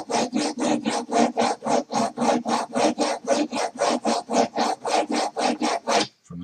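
A chisel is sharpened freehand on a sharpening stone in a woodworking shop, giving about twenty even back-and-forth rasping strokes in a steady rhythm, close and loud, with no talk.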